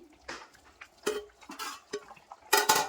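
Cauliflower biryani being stirred in a pot, a few separate scraping strokes of a spoon against the pot at close range, the loudest at the end, with no talk.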